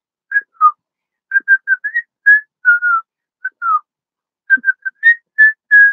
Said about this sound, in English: Can I whistle? Yeah, I can whistle.